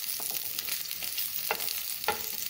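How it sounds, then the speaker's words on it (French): Onions frying in a pan and being stirred, a steady close sizzle with a few scraping stirs and no talking. "je vais commencer par faire cuire mes oignons"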